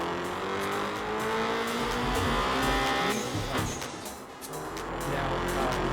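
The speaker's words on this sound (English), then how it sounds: "Press the gas, go up in revs, I hit 7, I press B and upshift." Car engine in the Night Runners racing game revving up from a standstill and shifting up, a rising engine tone that cuts out and climbs again, loud and alone with no talk.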